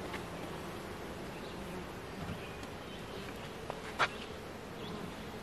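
Honey bees buzzing around a hive during handling, a steady close swarm drone throughout, with a sharp brief knock near the end.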